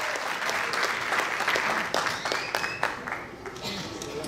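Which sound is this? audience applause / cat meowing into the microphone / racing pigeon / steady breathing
audience applause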